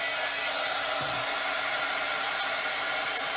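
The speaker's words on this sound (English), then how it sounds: "I'm going to grab out my little heat tool here" A small embossing heat tool blows hot air in a continuous loud, steady whoosh up close, with one faint low bump and no talking.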